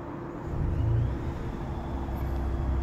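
A 2016 Toyota Highlander's engine runs just after starting, with a faint, steady low rumble that swells slightly in the first second and then settles into an even idle.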